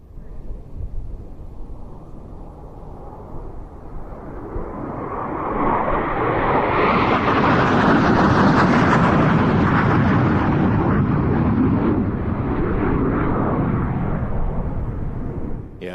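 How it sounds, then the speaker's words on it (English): A pair of Spanish Harrier jets arrive at an air show, their roar building from a distant rumble into a loud, broad, sustained jet blast that lingers overhead. "Here come the two Spanish Harriers from the left."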